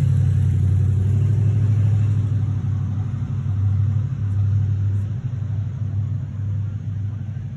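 A car rolling up at night during a roadside traffic stop, a loud low engine rumble close by, holding steady and easing slightly as it idles, with no talking.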